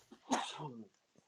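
A single sharp sneeze, preceded by a short intake of breath and followed by a faint trailing sound, close and alone in a quiet room.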